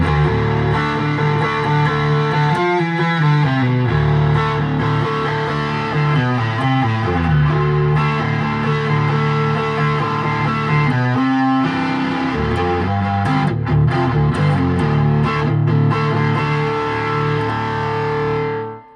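A PBC Dave Bunker Telecaster-style electric guitar played through its neck pickup with distortion and effects, sustained chords and note runs ringing loud and continuous for nearly twenty seconds before cutting off, no talking.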